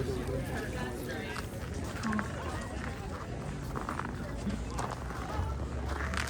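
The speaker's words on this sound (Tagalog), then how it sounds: "Kita nyo yung mga kabayo." Horses walk through a snowy Alberta winter outdoor setting, hooves clip-clopping under a steady wash of crowd noise and chatter, the hoofbeats blended into the busy background rather than standing out alone.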